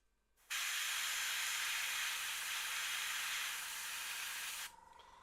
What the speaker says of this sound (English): It seems to be stuck on, so this is just the little airbrush that you get with the compressor.